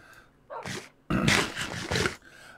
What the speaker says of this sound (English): Maisa, our little dog,